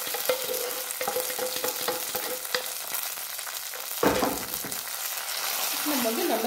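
Ghee-fried raisins and cashews being stirred into pongal, with soft repeated scraping strokes and a gentle sizzle, close by, then a brief louder burst partway through, no clear talking.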